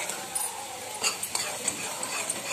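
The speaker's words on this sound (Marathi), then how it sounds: "हे व्यवस्थित तेल सुटेपर्यंत आपल्याला परतून घ्यायचं आहे।" Ground coconut, garlic and ginger paste sautéing in oil in a pan, a continuous bright sizzle with small scraping and stirring clicks scattered across the short stretch.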